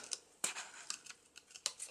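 Scissors snip through paper being cut for a grungy junk journal photo frame, a run of close, crisp cuts spaced irregularly, with no talking.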